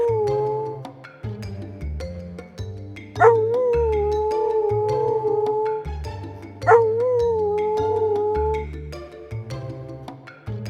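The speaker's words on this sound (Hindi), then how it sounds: "कुत्तों की दूर से रोनों की आवाज सुनाई दे रही थी" Dogs howl in the distance on a cold night in a dark, dense forest. Two rising, drawn-out howls sit over steady background music, each sliding up and then holding a long wavering tone.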